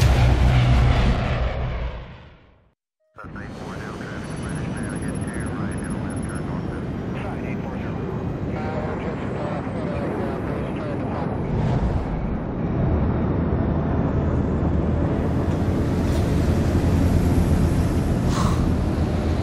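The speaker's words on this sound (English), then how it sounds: "It's pretty sweet, right? First time in a plane?" A steady, loud engine drone fills an airplane cabin in Splinter Cell: Blacklist, continuing for a long stretch after a brief cut, with a voice talking over it.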